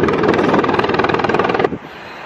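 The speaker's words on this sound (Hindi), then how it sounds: "तो फाइनली हमारा हेलीकॉप्टर आ चुका है" A helicopter arriving for a ride in Melbourne, its close, loud rotor beat thudding in a fast steady pulse before cutting off abruptly to quiet wind.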